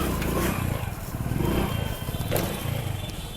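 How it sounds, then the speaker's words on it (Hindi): A motorcycle engine revs during a wheelie, rising and falling in pitch over clattering mechanical noise, loud and close. "आपने साउंड भी सुनी होगी बाइक के आरपीएम की"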